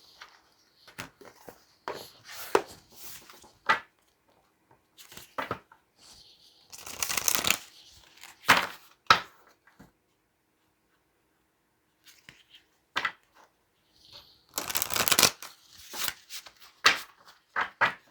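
An oracle card deck is shuffled by hand in repeated quick riffling bursts, close and crisp, separated by short pauses and a longer quiet gap.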